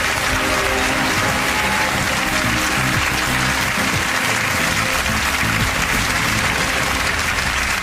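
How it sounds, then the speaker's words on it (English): A studio audience at a National Lottery game show bursts into loud, sustained applause and cheering as a contestant departs, a dense unbroken roar filling the whole stretch. "big cheer as she leaves."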